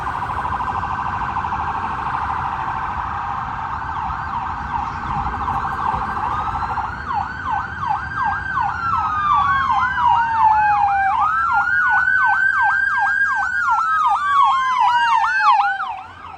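A police siren passes on a city street at night in Tallahassee, starting as a steady tone and then switching to rapid yelp and wail sweeps that grow louder and nearer.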